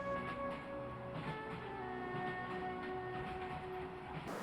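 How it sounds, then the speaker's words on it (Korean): A train rolls along in a Korean film scene, a steady continuous rumble with tonal whining hums, with no talk over it. "이 와중에 막동이는 보스의 여자와 열차를 탔습니다."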